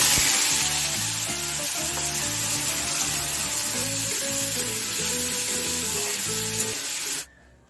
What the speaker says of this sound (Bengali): এদিকে তেল গরম হয়ে গেছে, আর এই যে আলু ভাজা কাটা রয়েছে,